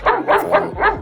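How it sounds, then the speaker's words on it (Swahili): A dog barks at night: four sharp, loud barks close by, evenly spaced with no other sound around them. "lakini mbwa akawa anabweka sana"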